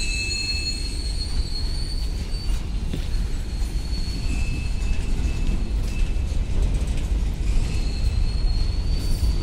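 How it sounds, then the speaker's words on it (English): A long goods train departs a station, rolling slowly past close by, wheels rumbling and grinding with high metallic squeals rising and fading over the steady low drone. "goods train departing from station."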